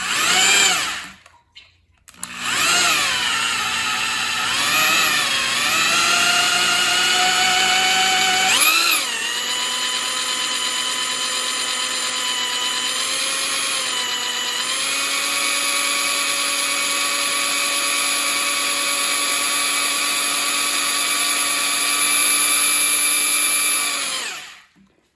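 Electric drill spinning steadily to prime the oil pump on a Ford 445 FE street/strip engine, a loud continuous whine that dips and shifts pitch under load, with a brief pause near the start and no talk.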